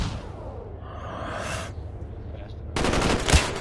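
Video game gunfire: a short burst of rapid shots near the end, after quieter whooshing game sounds, with a voice faintly present.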